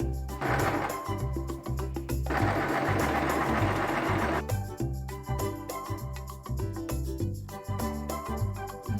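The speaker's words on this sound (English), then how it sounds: "I'm going to sew this 3 sides" Sewing machine stitching the sides of a pillowcase, a rapid steady mechanical chatter running close by, with two stretches of faster, busier whirring and brief slowdowns between.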